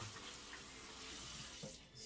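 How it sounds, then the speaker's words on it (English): Running sink tap water, mixed warm and cold, rinses raw chicken wings in a basin, a steady faint wash of flowing water throughout with a few soft splashes and no voices. "I'm gonna rinse the chicken right here"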